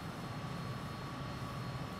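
MiG-21bis jet in Microsoft Flight Simulator 2020, a steady broadband engine roar with a faint whine, constant and close with no talk.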